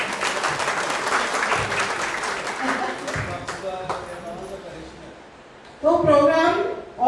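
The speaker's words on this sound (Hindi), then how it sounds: "जोर से तालियां" An audience at a Christmas program for the needy claps loudly in a sustained round of applause that fades, then a short burst of clapping and voices returns near the end.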